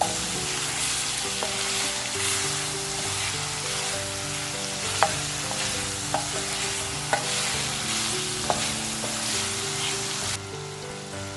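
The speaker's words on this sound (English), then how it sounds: "Keep cooking and stirring until shrimp is well done." Shrimp and broccoli in garlic sauce sizzle and fry in a hot pan while being stirred, with a constant crackling hiss broken by a few sharper scrapes and clicks of the utensil against the pan.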